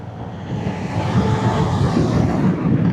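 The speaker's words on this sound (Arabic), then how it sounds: "عايزين بقى نتكلم عن طلعه السكوتر والسحبه بتاعته من الثبات" An economy scooter pulls away from standstill, its engine droning steadily louder and building over three seconds, close by with no voices.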